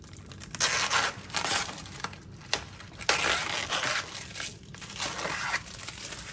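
Plastic wrap is peeled off a frozen ready meal for an air fryer English breakfast, making close crinkling, crumpling and tearing bursts in an irregular rhythm with no talking.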